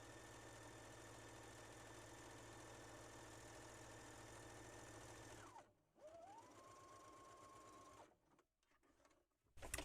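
Sewing machine running a straight stitch along a journal cover, a steady mechanical whir for about five seconds, then a brief pause, a short second run and a few faint clicks near the end.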